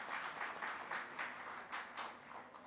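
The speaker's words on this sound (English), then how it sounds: "May I have the audience welcome our moderator and speaker with a huge round of applause" Audience applause at a formal gathering welcoming a moderator and speaker, a steady wash of many hands clapping at moderate distance, fairly quiet, with no talk over it.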